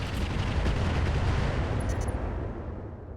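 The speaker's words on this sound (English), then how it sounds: "Here comes the missile." A missile explosion in the mech combat game RogueTech BattleTech: a loud, sustained boom with a dense low rumble that holds for about three seconds before starting to fade.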